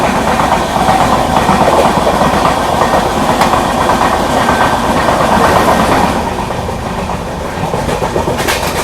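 Yuva Superfast Express, an LHB-coach passenger train, running at high speed, heard from inside as a loud, continuous roar with rhythmic clickety-clack of wheels over rail joints, easing slightly near the end.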